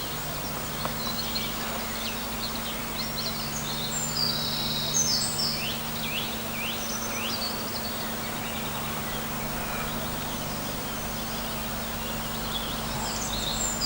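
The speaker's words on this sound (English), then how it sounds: "a marvellous collection of wild birds you can hear chirping away in the distance" Faint wild birds chirp and twitter in the distance among spring trees in Exmoor National Park, over a steady low hum and background hiss, scattered calls throughout with no speech.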